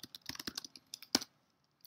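Computer keyboard keys pressed for shortcuts such as Command A and Shift plus question mark in a Unix terminal: a quick run of close, light clicks, one sharper louder keystroke, then quiet and a final soft tap.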